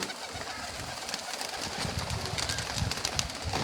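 A pigeon coos softly amid noisy outdoor background, its low calls faint and partly masked by broadband hiss and rustling, with no speech.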